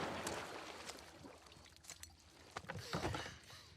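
Character swimming through water in The Last of Us Part II, soft splashing and sloshing strokes that swell and fade, loudest near the end, with no voices.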